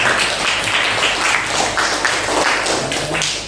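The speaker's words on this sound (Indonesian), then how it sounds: "Tepuk tangan untuk Zahra." A classroom group applauds a student named Zahra during an economics lesson, steady close clapping with a tapping texture that runs evenly for over three seconds.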